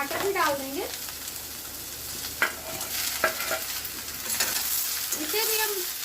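Tomatoes and green chilies frying in a pan, a continuous sizzle with scraping stirs and a few sharp taps, and brief voice sounds at the start and end.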